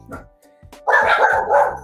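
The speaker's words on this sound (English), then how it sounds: "What are you dogs barking at?" Dogs bark loudly and close by in a continuous run of barks, preceded by a few softer yips and whimpers.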